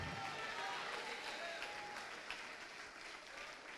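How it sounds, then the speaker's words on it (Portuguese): A church congregation applauds during a worship service, a continuous soft roar of clapping and crowd noise heard at a distance, fairly faint and steady, with some voices mixed in. "E está chegando mais, vamos aplaudir mais."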